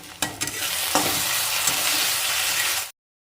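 Onions frying in a pan with garlic-ginger paste, chili and turmeric powder being stirred in for a fish curry: a steady, moderately quiet sizzle with a few sharp stirring clicks near the start, ending abruptly.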